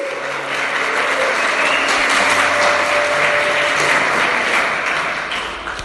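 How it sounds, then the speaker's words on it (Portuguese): A church congregation applauds during a sermon, a broad wash of clapping that swells and fades over several seconds, with a faint tonal hum running beneath it. "Veja a sua poderosa palavra de Deus e aplauda a poderosa palavra."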